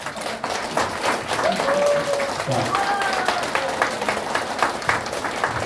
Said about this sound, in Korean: 이 두 분을 위해서 뜨거운 박수 부탁드립니다